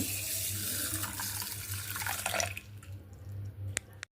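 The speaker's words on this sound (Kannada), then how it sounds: "ಇದಕ್ಕೀಗ ನೀರು ಹಾಕೋಣ ಇದಕ್ಕೆ ನೀರು ಹಾಕೋಣ" Water pours from a tap onto flaxseed, fenugreek and mustard seeds in a kitchen container, a steady splashing stream that runs for a few seconds before cutting off with a couple of drips.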